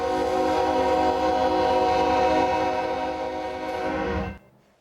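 A train horn blows at a railroad crossing in Columbia, one long loud sustained blast that holds for about four seconds and then cuts off sharply.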